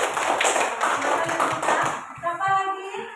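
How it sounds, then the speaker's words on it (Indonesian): Schoolchildren clapping for a classmate in a third-grade primary school classroom, a brisk burst of hand claps close by that fades out after about two seconds, followed by children's voices. "Kita kasih tepuk tangan untuk Rian dulu."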